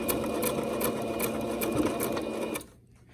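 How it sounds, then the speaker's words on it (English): A sewing machine runs steadily, stitching a short seam across fabric to hold a ribbon in place, then stops abruptly near the end, leaving quiet. "take your sewing machine and put a stitch across here and a stitch across here"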